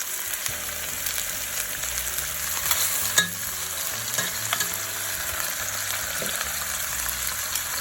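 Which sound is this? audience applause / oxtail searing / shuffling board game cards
oxtail searing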